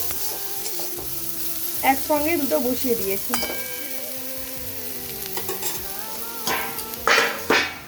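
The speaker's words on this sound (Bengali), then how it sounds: "এখানে দেখো উচ্ছে আলু ভাজা হচ্ছে" Bitter gourd and potato pieces fry in a pan with a steady close sizzle, punctuated by occasional utensil clinks, while someone talks over the cooking for much of the time.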